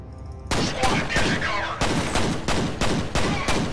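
Rapid gunfire in the video game F.E.A.R., a dense run of loud sharp shots in bursts over a few seconds, with no talking.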